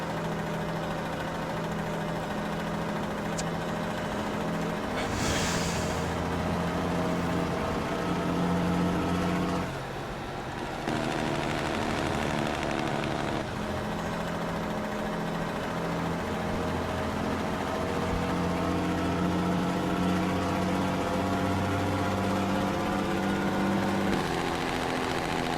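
Truck engine in American Truck Simulator held at a steady, droning rumble with a brief dip around ten seconds, mostly constant high-RPM hum throughout, no voices.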